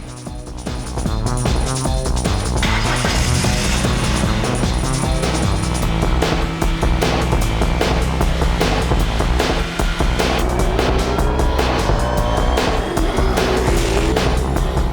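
Real cars driven for Gran Turismo 2 sound recording roar past with revving engines, loud and continuous, with occasional tire squeal.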